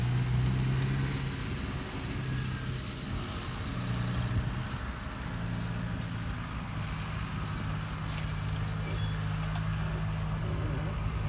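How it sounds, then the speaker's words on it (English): A farm machine engine runs steadily at a mid-range speed during the first haymaking for organic baleage, giving a constant low drone with a rumbling undertone that holds evenly throughout. "you may even be able to hear the engine there running just kind of a mid-range"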